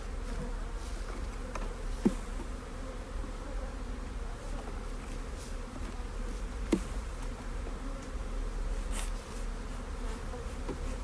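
Honey bees swarm around an opened hive during an inspection with a smoker, their buzzing a steady close drone throughout, with a couple of brief louder clicks or knocks.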